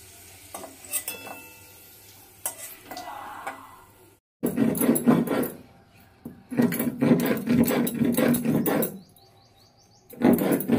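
Spices are ground on a stone slab with a grinding stone, producing loud gritty rubbing strokes in several sustained bursts separated by short pauses, after some softer scraping and tapping at the start. No one speaks.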